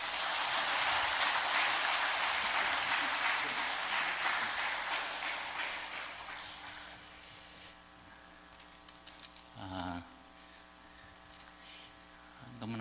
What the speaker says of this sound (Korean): 광림의 따뜻한 박수로 환영해 주시면 감사하겠습니다